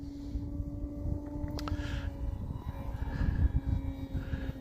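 An Arrows Husky 1800mm RC model airplane on skis, running a 6S electric setup, flies overhead with a steady, moderately distant motor and propeller whine that swells slightly toward the end.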